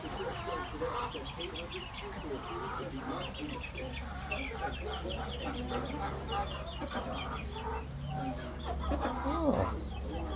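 Ducks inside a coop on a rainy day give soft, scattered quacks and chattering calls, fairly close, over a steady low background hum.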